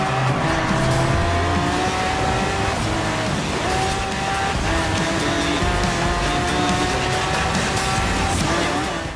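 Lamborghini Centenario LP770-4 racing in the game Forza Horizon 4, a steady high-pitched engine whine with shifting tones and tire noise, continuous and fairly loud throughout.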